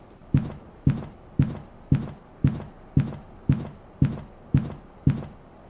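Heavy, evenly spaced thuds of a ghost walking at normal speed in Phasmophobia, about ten steps in under six seconds, each sharp and close with a short booming tail, heard alone over a faint high hum.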